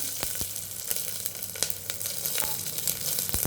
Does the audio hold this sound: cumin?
yes